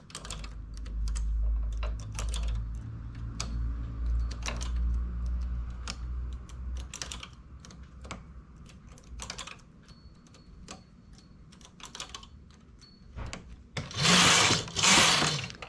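A domestic knitting machine carriage clatters back and forth knitting a row of eyelets, giving steady mechanical rattling and ticking with louder sliding swishes near the end; no one talks.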